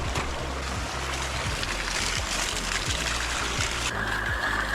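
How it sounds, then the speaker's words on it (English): Hot spring water gushes from a hose at a campsite on a steaming hillside, a dense, steady rushing splash with low gurgling pulses and no pauses. "boiling hot water there, and warm water flowing in here"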